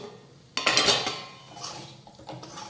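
Okra stirred in a cooking pot after simmering covered on low heat: a sudden metallic scrape and clatter of a spoon against the pot, followed by a softer scraping stir, close up.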